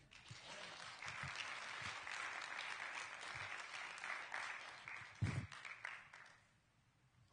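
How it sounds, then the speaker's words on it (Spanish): A church congregation applauds in a sustained, broad wave of clapping that holds steady, then thins and fades away near the end, with a brief thud partway through. "Alguien le da un aplauso a Él"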